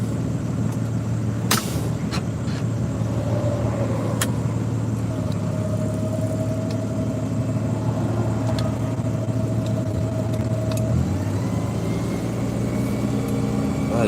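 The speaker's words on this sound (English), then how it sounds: "Oh, that truck is running rough this morning." Truck engine idling rough on a cold morning, a steady low mechanical drone with a few sharp clanks and a faint whine, running continuously throughout.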